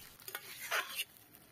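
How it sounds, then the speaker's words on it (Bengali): Beans curry in a pan hisses and sizzles as a little water is poured in, with a rising burst of hissing near the middle and faint stirring scrapes, close and moderately loud without talk. "এখানে অল্প করে জল দিয়ে দিলাম"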